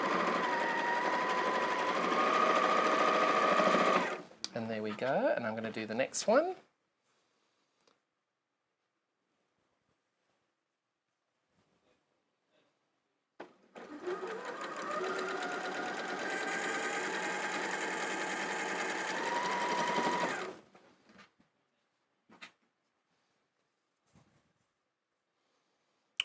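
A model 560 sewing machine stitches quilt block pieces in two steady, whirring runs separated by a quiet gap, with a brief spoken remark in between.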